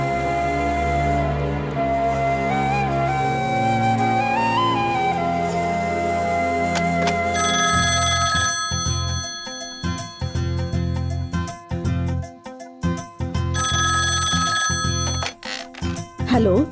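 A telephone rings insistently with a repeating electronic trill in a dubbed action film scene, loud and close, following a stretch of background music and breaking off in pulsing bursts.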